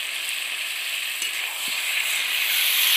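Fried pointed gourd, potatoes and eggs land in hot, oil-releasing masala, giving a steady loud sizzle with a couple of faint clinks, no voices.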